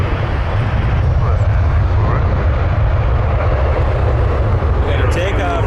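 A plane taking off at Toronto Pearson airport produces a loud, unbroken low roar that fills the scene, with faint voices murmuring beneath it.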